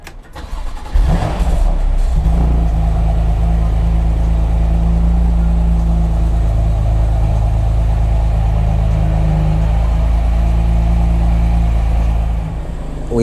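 A BMW M2 CS Racing track car's engine cranks and fires after a brief start, then holds a loud, deep, steady rumble for about ten seconds before cutting off near the end.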